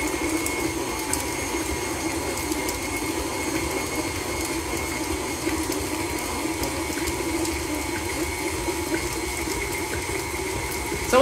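A stand mixer with a paddle attachment beats choux pastry dough with eggs at medium speed, a steady mechanical whirring hum with a rhythmic slapping, churning texture, constant and close, no talk.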